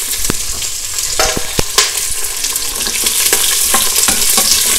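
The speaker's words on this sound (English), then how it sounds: "saute them till the onions are a little bit cooked" Small onions, yellow pumpkin pieces, broad beans and curry leaves sautéing in a pot, giving a steady close sizzle broken by several sharp scraping stirs and clinks, with no talking.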